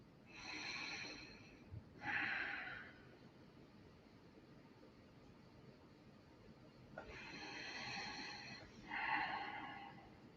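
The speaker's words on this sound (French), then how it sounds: "Nous pouvons commencer à respirer normalement." Slow, calm breaths during a guided breathing exercise in a healing circle session: two pairs of soft, airy inhales and exhales, close and quiet, separated by a long still pause, with no talking.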